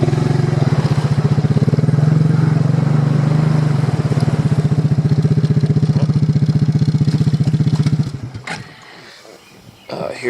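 A small Evinrude/Johnson 4 to 6 hp outboard motor sputters to life and runs with a steady, rapid putter, then cuts out abruptly, leaving brief quiet and a few clanks.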